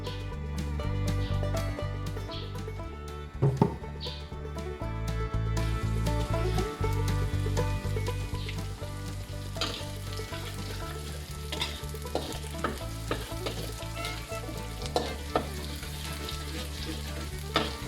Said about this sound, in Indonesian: kita goreng ini sampai ya naik wanginya ya. sampai sudah kekuning-kuningan